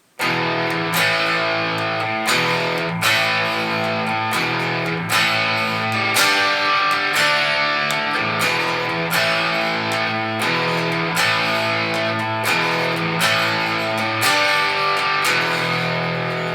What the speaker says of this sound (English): the rhythm guitar behind that is basically just doing these power chords